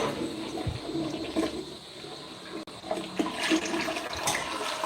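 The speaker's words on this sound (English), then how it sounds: "you're going to hear a flush here." A toilet flushes indoors with a sustained rushing, gurgling swirl of water, fairly loud and close, running for several seconds without talk over it.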